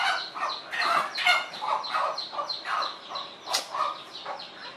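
Chickens cluck in a busy, close series of short calls with no talk, one louder squawk near the end.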